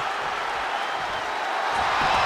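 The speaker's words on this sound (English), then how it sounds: "Cody trying to get this crowd on their feet," Crowd noise in the WWE 2K23 wrestling game during a Cody Rhodes versus Shawn Michaels iron man match at SummerSlam: a steady, dense roar of cheering that swells slightly toward the end.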